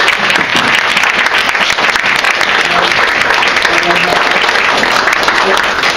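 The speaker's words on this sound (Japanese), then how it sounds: "どうぞ拍手でお迎えください。" Audience applause at a book-talk event in a bookstore, steady dense clapping from a crowd filling the whole stretch, loud and continuous without a break.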